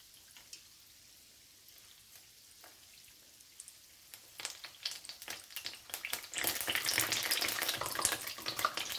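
Puff puff dough fries in oil over medium-low heat, starting as faint scattered crackles and swelling into a dense, steady sizzle in the second half, with no one speaking.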